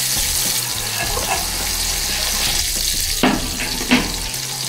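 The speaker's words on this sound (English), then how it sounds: "put some really nice salted butter in the pan and melt, melt, melt" Salted butter sizzles in a hot pan with a steady hiss and crackle, joined by a few brief clinks near the end.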